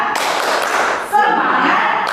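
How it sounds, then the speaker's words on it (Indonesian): Children at a church children's service doing a rhythmic spirit clap, a loud, close burst of clapping that pauses briefly and resumes, with young voices chanting along. "Oke, tepuk semangat."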